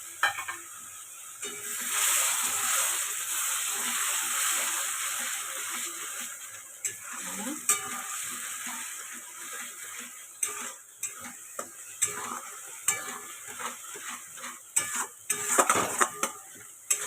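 Potol korma cooks in a pan as a paste of green chillies, poppy seeds, melon seeds and curd goes in, giving soft sizzling under repeated close scrapes and clinks of a spoon against the pot, with no talk.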